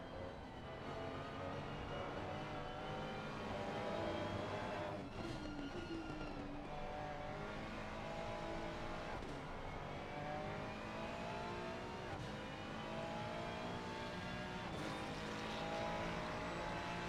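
Race car engines roar continuously around the Nurburgring circuit in the Assetto Corsa Competizione racing game, one car screaming away into the distance with shifting pitch and no talking.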